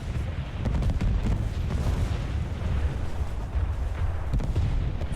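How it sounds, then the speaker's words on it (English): Dense, continuous naval gunfire from a fleet of warships in War Thunder, heavy low booms and rumbling blasts overlapping loudly throughout with no pauses. "So there's that many ships shooting at me"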